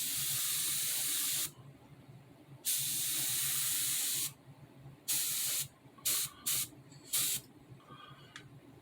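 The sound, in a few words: spray paint being sprayed on a model car chassis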